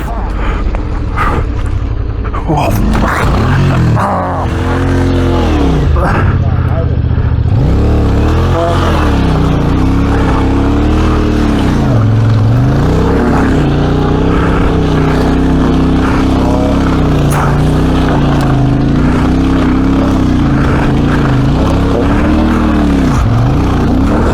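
A Royal Enfield Himalayan adventure motorcycle rides off-road on slippery ground, its loud, close engine rising and falling as it revs through throttle changes for the whole stretch, with some voices mixed in.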